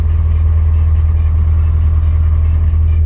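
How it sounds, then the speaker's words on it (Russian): A road maintenance tractor (grader) rumbles nearby on a rough gravel road, a steady loud low engine drone with no talk. "А, там трактор едет, дорожники."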